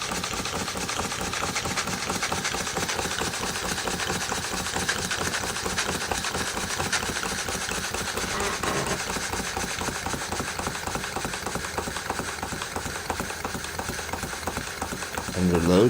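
A budget Nasmyth vertical rotating steam engine runs on about 12 psi of steam, giving a fast, even, continuous chuffing and clatter that stays loud and steady throughout.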